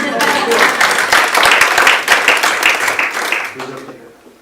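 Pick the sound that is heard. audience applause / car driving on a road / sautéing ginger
audience applause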